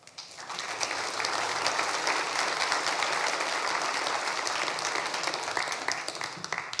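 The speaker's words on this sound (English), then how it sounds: "Let's get one more round of applause for both candidates, please." Sustained audience applause at the 2022 Cranbrook municipal election all-candidates forum, a dense, steady round of clapping filling the room from start to finish with no talk over it.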